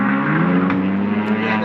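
A car pulls in close by, its engine holding a steady, humming tone that stays fairly loud and even for a brief moment.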